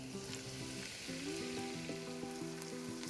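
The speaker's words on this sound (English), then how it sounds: "When the oil gets hot, you can add 2 chopped onions to this." Two chopped onions frying in about three tablespoons of hot cooking oil in a big pan for an Indian curry base, a steady close sizzle and crackle with a background musical tone and no talking.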